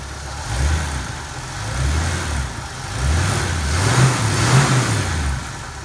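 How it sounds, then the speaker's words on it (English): A 1956 DeSoto engine with a dual-point distributor revs up a few times in quick succession, rising and falling in pitch between short idles, loud and close. "Give it a couple revs."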